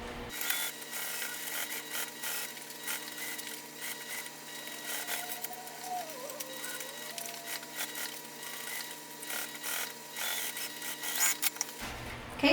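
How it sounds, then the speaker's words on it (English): A sewing machine stitches a bag panel in steady continuous running, a mechanical whir with fine rasping texture throughout, moderately loud and alone with no talk. "I'm going to start sewing like this."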